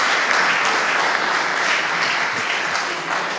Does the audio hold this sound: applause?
yes